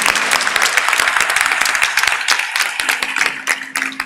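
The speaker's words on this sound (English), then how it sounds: "And a round of applause for the fantastic presentation." An audience at a conference on critical minerals value chains applauds after a panel, a dense, steady burst of clapping filling the room for several seconds.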